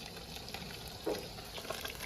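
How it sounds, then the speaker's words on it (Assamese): Boroli river fish fries outdoors for an Uruka feast, a faint, steady hiss of oil with light crackles and an occasional small pop. "পাপাই মাছ ভাজি আছে ৰাতিৰ কাৰণে"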